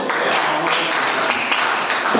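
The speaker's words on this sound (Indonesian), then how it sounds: "tepuk tangan dulu" A class of students clapping their hands together in applause, a dense steady patter of many hands filling the room at an even loudness throughout.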